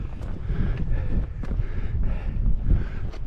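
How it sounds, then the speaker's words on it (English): Gusty wind at a Lake District wild camp buffets the microphone in steady, rumbling waves, close and fairly loud throughout. "see the wind picking up"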